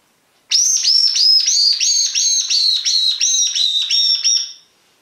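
A bird call lure blown to imitate a fieldfare thrush, giving a rapid series of about a dozen sharp, high whistled chirps in steady rhythm, loud and close, alone with no talk.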